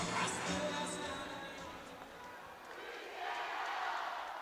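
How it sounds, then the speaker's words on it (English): Crowd at a hockey game roaring and cheering, a broad sustained swell of many voices that dips midway and rises again, with a commentator's voice faintly over it. "This is the loudest I've heard this crowd this weekend."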